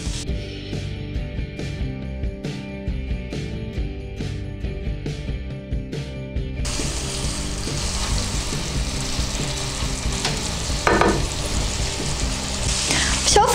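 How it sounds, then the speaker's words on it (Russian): Minced meat fries in a pan for chili con carne, a steady broadband sizzle that starts after a stretch of quieter kitchen sound and then runs loud and continuous, with a brief scraping burst near the end. "Все, фарш начал поджариваться"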